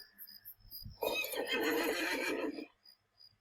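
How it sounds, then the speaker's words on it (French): A horse in a fantasy video game lets out one loud, close whinny lasting about a second and a half, with softer ambient game sounds before and after. "C'est mieux le cheval quand même"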